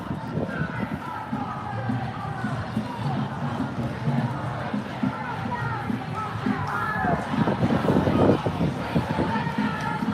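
Rally crowd with waving flags, a dense, continuous babble of many voices and footsteps close by, swelling louder toward the end with scattered shouts.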